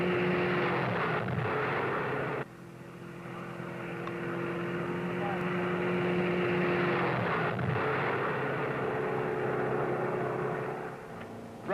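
A 1960 Chrysler 300F drives laps of a high-banked concrete oval, giving a steady loud engine drone with tyre roar that swells and fades as it circles, under faint narration.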